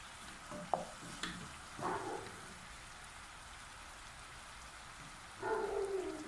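Sugar stirred in a pan while cooking carrot toffee, heard as quiet intermittent scraping and soft sizzling bursts separated by calm pauses, no talking.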